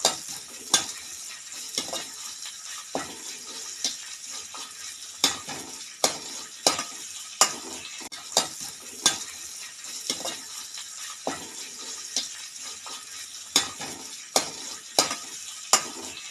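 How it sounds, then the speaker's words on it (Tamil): Dried red chillies, cumin and black pepper fry in oil in a pan, with a steady sizzle and regular sharp clinks of a spoon scraping and stirring throughout, close and alone. "வரமிளகாய், ஜீரகம், மிளகு எல்லாம் போட்டு வறுத்து எடுத்துக்கலாம்."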